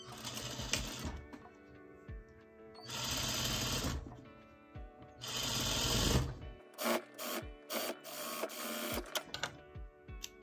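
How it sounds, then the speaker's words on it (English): A sewing machine stitches fabric at a quarter-inch seam, running in several loud, close bursts separated by pauses and small clicks, with no talk. "I'm going to stitch it at 1/4 inch"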